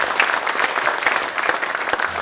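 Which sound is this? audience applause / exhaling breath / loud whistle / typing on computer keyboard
audience applause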